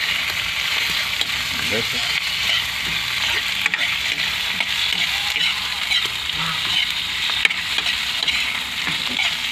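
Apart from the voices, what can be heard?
shrimp paste frying in a pan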